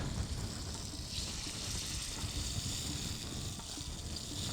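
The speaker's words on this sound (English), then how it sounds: "I will add little water to it" Water poured steadily into a pot of hog plum curry on the stove, a continuous close gush and trickle with no talking.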